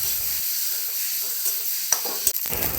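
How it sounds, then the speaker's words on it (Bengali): Spices, including ground cumin, sizzle and get stirred in a hot pan, a steady bright frying hiss with a few sharp scraping knocks near the end. "আর একটু ভালো করে কষিয়ে নিচ্ছি।"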